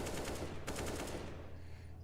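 Rapid pistol fire in Counter-Strike: Global Offensive, a five-seven style burst of quick cracking shots in a dense volley that trails off into quieter game noise.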